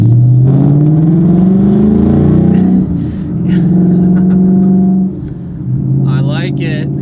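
A 2018 Ford Mustang GT V8 with its mufflers removed rumbles loudly while driving, a deep steady exhaust drone that rises and falls with throttle and briefly dips twice; a voice talks over it.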